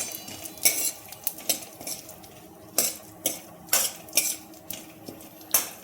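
Seeds being dry-roasted in a pan while a metal spoon stirs them, giving repeated sharp scrapes and clinks at an uneven rhythm, close and clear with no talking.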